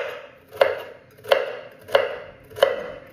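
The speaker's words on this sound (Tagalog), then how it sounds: "Ngayon ay mag-chop na lang ako ng mga pagkain niya na kailangan luto." Food being chopped on a board at home, four evenly spaced, crisp knife strikes about two-thirds of a second apart, close and fairly quiet with no talking.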